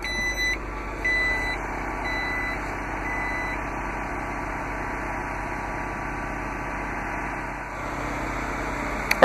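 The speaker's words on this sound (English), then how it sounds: "to close the liftgate, just press the button in the trim panel" The power liftgate of a 2012 Jeep Grand Cherokee Laredo closes with a few chime beeps at the start, followed by a steady motor hum and a soft thud at the end.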